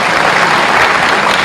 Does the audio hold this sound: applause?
yes